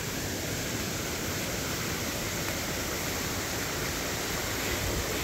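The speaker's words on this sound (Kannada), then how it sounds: "ಇಲ್ಲಿ ಮಧ್ಯ ನೋಡಿ ನೀರು ಹೆಂಗೆ ಹರಿತಾ ಇದೆ ಇಲ್ಲಿ" Water rushing at TK Falls, a loud steady broadband roar of flowing water filling the whole clip with no pauses and no voices.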